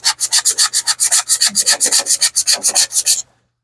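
Quick back-and-forth strokes of 120-grit sandpaper on a wooden ice cream scoop handle, a loud, close, rhythmic scratchy rubbing of about twenty strokes that stops abruptly.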